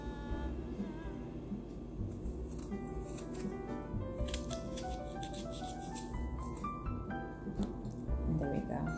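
A sharp knife cuts through an apple on a board, with soft crunching slices and light taps against the surface, close and fairly quiet, while someone talks over the cutting.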